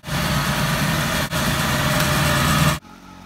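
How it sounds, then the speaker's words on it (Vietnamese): A rice cutting machine's engine runs at a steady, loud drone close by for nearly three seconds, with a brief dip partway through, then cuts off abruptly, leaving a faint low hum. "Rice cutting machine."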